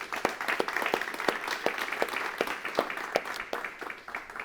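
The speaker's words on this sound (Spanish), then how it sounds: "Me gustaría que agradeciéramos públicamente a estos hermanos con un aplauso." A church congregation at a weekend gathering gives steady, continuous applause. Many hands clap together at a moderate distance in a reverberant room, with no voices clearly heard over it.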